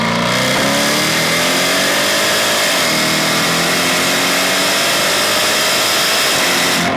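Jaguar F-Type SVR engine and exhaust roaring loud and close, holding a steady high drone with pitch slowly climbing as it pulls through revs, continuous with no talk.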